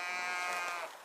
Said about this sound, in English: Sheep love the shade too.